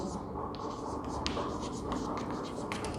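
A pen scratches across paper in short strokes for a class 8 Sanskrit answer on Narendranath's birth, a soft scribbling close by while someone talks over it.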